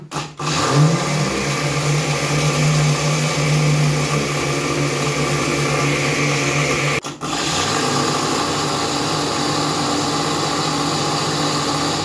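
A kitchen blender grinds eggshells for compost, a loud, steady high-pitched motor whir that briefly cuts out and restarts midway, with no voices.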